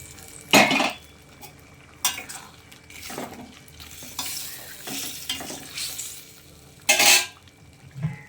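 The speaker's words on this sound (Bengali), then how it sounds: "গ্রেভিটা টকবক করে ফুটছে এবারে আমি কাঁকড়াগুলো দিয়ে দেবো" Crabs stirred into a bubbling, spicy gravy in a pan for a Bengali crab curry, with scraping utensil strokes and brief loud clatters against the pan over a soft simmer, in bursts of a few seconds.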